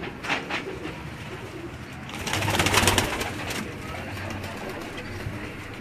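Pigeons coo softly and repeatedly nearby on a rooftop in Golra Sharif, with wing flutters and rustling in the middle and faint background noise.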